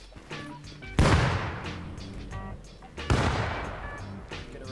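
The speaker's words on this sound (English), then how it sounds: "They're throwing grenades." Two loud grenade blasts in a shooter game, each a sharp boom that decays slowly, with scattered gunfire and faint game sounds between them.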